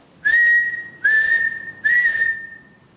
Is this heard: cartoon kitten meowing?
no